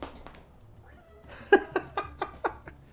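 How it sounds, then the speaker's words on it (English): A house cat lets out a run of five or six short, strained meows in quick succession, close by in a quiet room after a brief pause. "That was my cat."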